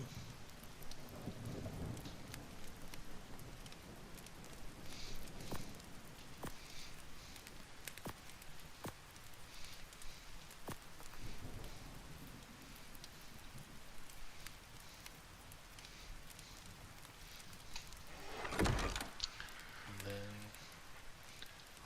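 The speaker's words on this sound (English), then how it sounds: "It's raining." Steady rain patters continuously, with soft rumbles of thunder now and then, all heard at a low, distant level, in the video game Ark: Survival Ascended.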